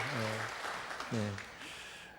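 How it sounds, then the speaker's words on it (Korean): A Korean church congregation applauds to welcome a new member at Sunday service. Light clapping runs in the background beneath two short bursts of voice. "우리 박수로 맞이해 주시기 바랍니다"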